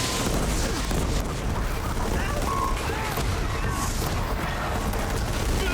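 Rail gun fire in Horizon Zero Dawn: heavy, booming blasts that merge into a dense, continuous roar of gunfire and explosions lasting the whole stretch, with game noise layered over it.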